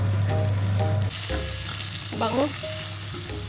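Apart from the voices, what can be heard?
onion sautéing in a pan for pork steak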